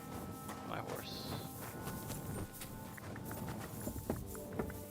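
Hooves of a horse clip-clopping at a walk in the video game Kingdom Come: Deliverance 2, a soft, uneven run of thuds under quiet background ambience.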